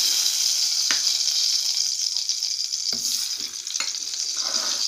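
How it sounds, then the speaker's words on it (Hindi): Makhana roasts in ghee in a kadhai over a low flame. A bright, continuous sizzle runs close by, punctuated by three or four sharp knocks of a spoon against the pan, with no voices. "इसमें मखाने डाल देंगे और उसे भी लो फ्लेम पर अच्छे से हिलाते हुए बिल्कुल क्रिस्पी होने तक इसे सेक लेंगे"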